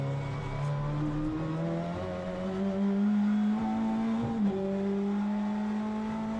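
British touring car engine roaring on a race track, pitch climbing and dropping through gear changes as it brakes and downshifts into a corner, loud and close, steady throughout.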